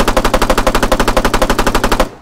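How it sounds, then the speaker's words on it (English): A Spar-16S 5.56mm light machine gun fires in Arma 3 as one loud, sustained automatic burst of about twenty evenly spaced rapid shots, closely miked, ending in a short fading tail with no talk. "A light machine gun."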